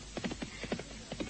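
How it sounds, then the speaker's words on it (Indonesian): Horse hooves approaching, a steady rhythmic clip-clop of several quiet hoofbeats at some distance, heard alone without speech. "Seperti ada langkah kuda datang kemari."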